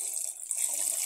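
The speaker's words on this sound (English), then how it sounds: "Then we pour it into our main" Dissolved Texapon solution is poured into a larger air freshener production mixture, giving a steady, close liquid splash and gush that runs without a break for about a second with no talk over it.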